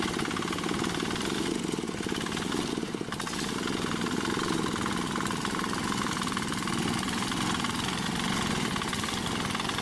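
A compact tractor engine runs steadily on rutted rural roads at a jungle construction site, a continuous loud mid-pitched drone with a rough, even rumble and no pauses.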